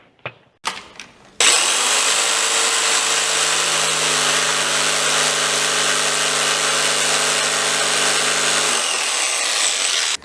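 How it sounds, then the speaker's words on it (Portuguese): A jigsaw fitted with a Starrett blade cuts through wood after a few short starts, then drones loudly and steadily for about eight seconds, close and alone, before stopping. "Nós fizemos o corte então com várias lâminas de serra aqui, serrinha tico-tico diferente uma da outra."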